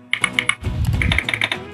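Laptop keys typed with a mechanical keyboard sound effect, crisp clicky taps in quick bursts of several strokes, with a deeper clack near the middle, close and clear with no voices.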